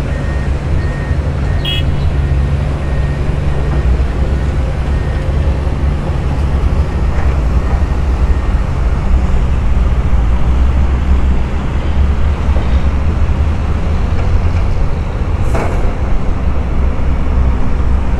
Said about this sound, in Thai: กองทัพรถขุดนะครับกองทัพรถ10ล้อนะครับวันนี้มาถล่มภูเขา